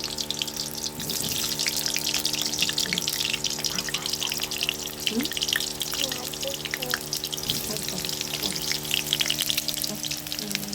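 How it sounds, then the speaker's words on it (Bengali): Potatoes frying in hot oil in a wok give a steady, dense sizzling hiss close by, running unbroken throughout with a faint background hum and scattered crackles. "তেল গরম হয়ে গেছে, এখন আলু দিচ্ছি। আলুটা ভেজে নিই"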